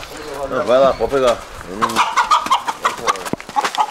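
Chickens and a rooster cluck and squawk loudly nearby on a farm, with brief bursts of calls while people talk and shout close by.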